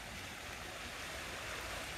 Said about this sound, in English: I said the stream's going to get stronger, and look, it got stronger